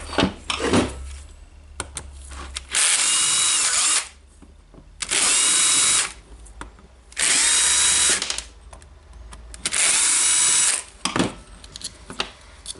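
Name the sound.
power tool removing screws from Makita jigsaw housing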